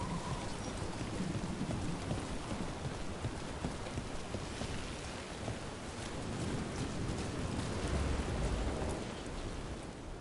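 Steady, dense rain pours down in the fantasy video game Dragon Age: The Veilguard, a continuous hiss lasting throughout with a faint rumble beneath and no voices.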